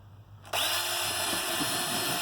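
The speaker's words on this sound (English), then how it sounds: "Just take a drill bit in either case, clean out the holes" A power drill spins up suddenly and whirs steadily as a bit cleans wax and propolis out of the wire holes in wooden beehive foundation frames, loud and close.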